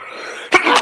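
A single sharp sneeze, very brief and close, with a soft intake before it, in a room with drywall dust in the air.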